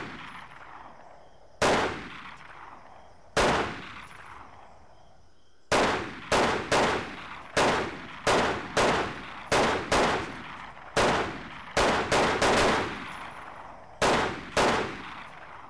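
Single gunshots in a video game army training course, sharp loud cracks each followed by a short decay, starting sparse and then coming in a quicker irregular series, with no talking.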